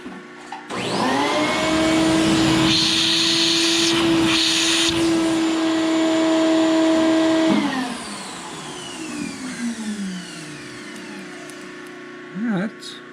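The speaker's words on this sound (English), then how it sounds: "We'll vacuum that out," A shop vacuum cleans out a small machined part for a P&M Research 1B1 steam engine. Its loud, steady whine runs close for about seven seconds, then winds down, followed by faint handling noises.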